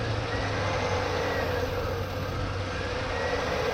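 A 2000 Chevy Silverado engine, troubled by a high idle fault and a tight throttle cable, hums in a steady drone with no talking over it.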